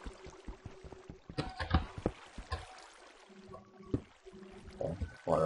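Game water splashing and pouring in bursts within a block-building video game, with a low rhythmic thumping and clicks alongside and a louder gush toward the end.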